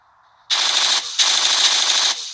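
An automated turret in the Last Day on Earth survival game fires two loud, rapid machine-gun bursts separated by a short pause.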